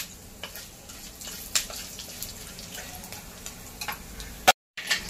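Coriander seeds dry-roasting in a pan for a garlic and coconut chutney give a soft, steady crackle with occasional sharper ticks and clicks. No one speaks.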